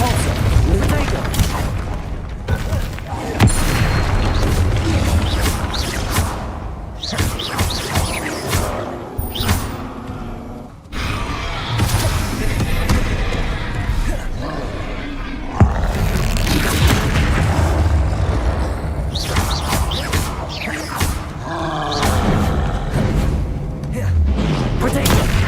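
Spell blasts and explosions from the Hogwarts Legacy video game boom almost continuously, a dense barrage of loud thumps and bursts with voices shouting over the combat.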